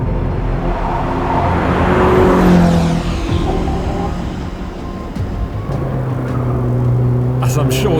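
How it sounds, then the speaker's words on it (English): Inside the cabin of a Ferrari SF90 XX, the twin-turbo V8 howls loudly, rising and falling under hard acceleration and gear changes, with a continuous roar that fills the car. "the soundtrack is noticeably different from the regular SF90 as Ferrari's optimised the hot tube system in order to amplify the twin-turbo V8 howl"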